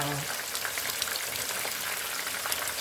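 A fish head frying in hot oil for Cajun fried fish gives a steady, dense sizzle that fills the whole stretch at moderate level, with no voices.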